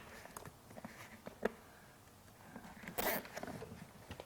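A plastic zip tie ratchets tight around a wiring harness inside a BMW X3 E83 during a speaker install, a short close burst of rapid clicking near the end amid faint handling noise.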